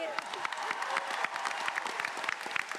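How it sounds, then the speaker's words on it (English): Large Comic-Con panel audience applauding for The Big Bang Theory cast, a sustained wash of many hands clapping in a big hall, steady and fairly distant with scattered sharper claps. "Give him a big round of applause,"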